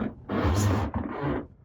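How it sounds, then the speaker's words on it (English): Floor squeaks twice indoors, a drawn-out creak followed by a shorter one, close and fairly loud in an otherwise quiet room. "Pardon the squeaky floor."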